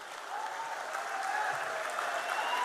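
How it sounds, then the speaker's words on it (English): Steady audience applause at a PNM party convention and campaign launch, sustained clapping from a large crowd for campaign volunteers, even and continuous throughout. "I want you to stand and give them a round of applause."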